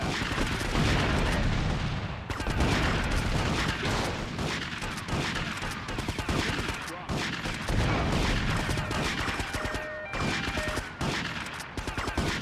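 Crossfire in the video game GTA Vice City Stories on PS2, dense continuous gunshots and bursts with crashes and booms, loud throughout with brief gaps between volleys.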